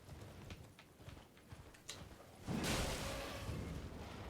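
Horse hooves clopping in Elden Ring, a series of soft, evenly paced thuds followed by a louder burst of galloping impact and rumble in the second half.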